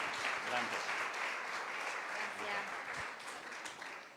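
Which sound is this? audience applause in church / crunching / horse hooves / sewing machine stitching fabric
audience applause in church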